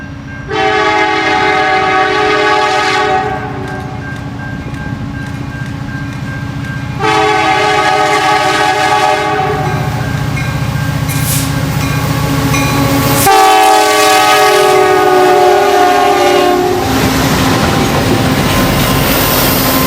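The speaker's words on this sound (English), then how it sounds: "CN 5713 leads a westbound local with another impressive lash-up" CN 5713 leads a westbound local freight with a multi-unit locomotive lash-up, sounding three long, loud chorded horn blasts close by over the rumble and clatter of the passing train.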